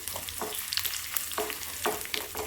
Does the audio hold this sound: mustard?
yes